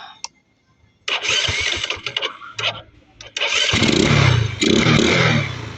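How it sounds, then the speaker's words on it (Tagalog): Honda Rouser 135 motorcycle engine starting and running after a repair for noisy engine ticking, with a few short bursts, then a loud sustained run, close up. "ito na yung Rouser 135 na ginawa natin, yung maingay yung makina"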